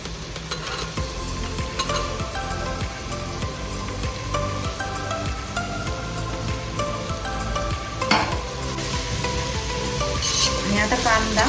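Chopped onion sautéing in a pan for pav bhaji, a continuous close sizzle with occasional stirring scrapes, steady throughout and growing a little louder near the end.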